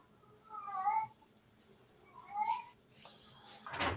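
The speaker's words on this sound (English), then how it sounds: "What are you meowing around for?" A small cat gives two short, fairly faint meows about a second and a half apart, followed by rustling noise.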